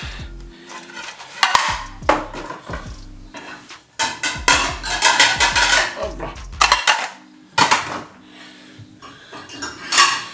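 Plates and dishes clatter and clink in repeated sharp bursts close by, stacked and set down, with a brief spoken word in the middle.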